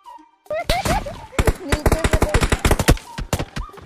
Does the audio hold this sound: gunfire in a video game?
yes